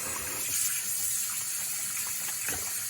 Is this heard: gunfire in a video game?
no